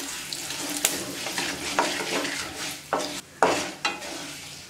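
Buttermilk chillies and curry leaves fry in hot oil, giving a continuous crackling sizzle punctuated by several sharp stirring scrapes and pops, close and fairly loud, with no talking.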